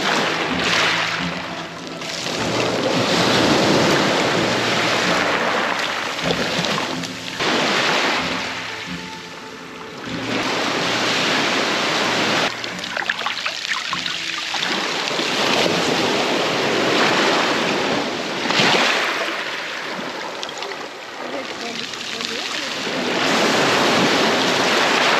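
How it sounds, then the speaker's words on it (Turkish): Sea waves breaking on the shore by a caravan campsite, with loud surging washes that rise and recede in a slow rhythm, mixed with gusts of wind noise on the microphone. "Dalgaya bak da ıslanmayalım."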